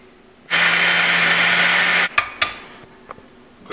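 A blender whirs for about a second and a half while mixing bananas, strawberries and egg for a fighter's shake, a loud, steady motorized roar that stops abruptly and is followed by a few sharp clunks and knocks.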